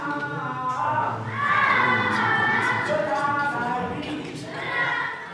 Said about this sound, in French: le bruit de la fête commence à alerter les voisins